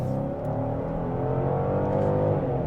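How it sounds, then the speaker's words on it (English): A 2025 Genesis GV70 accelerates on a driving course, its engine note rising in a smooth, steady whine heard from inside the cabin, with no talk. "Hit some corners, we'll accelerate here."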